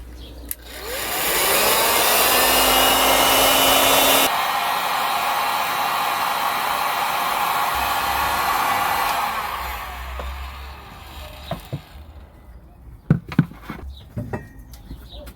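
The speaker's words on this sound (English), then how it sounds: "when I shrink the plastic, it does give me a headache. And that's not a good sign, is it? Heat gun." A heat gun blows with a steady, loud whooshing roar while shrinking plastic, shifts to a lower setting partway through, then switches off and leaves faint handling clatter.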